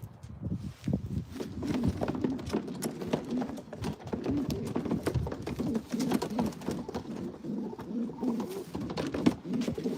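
Pigeons coo steadily in low, throaty murmurs, close by, with scattered fluttering and scratchy movement throughout.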